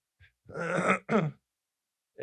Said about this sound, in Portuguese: Estou saindo uma gripe, então vou dar umas tossidas e pigarrear aqui.